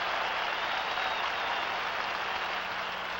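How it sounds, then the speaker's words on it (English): A stadium crowd at a Los Angeles Rams versus Philadelphia Eagles football game applauds steadily for a lineman, a dense, even wash of clapping and cheering that holds loud throughout with no voice over it. "The crowd is applauding Doug France"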